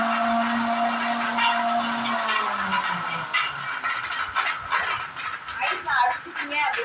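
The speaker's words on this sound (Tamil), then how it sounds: "ஃபர்ஸ்ட் ஐஸ் வந்து நல்லா அரைச்சிடுங்க." A blender crushes ice for a protein shake, whirring steadily for about two seconds before winding down, followed by scattered rattles and knocks from the jar.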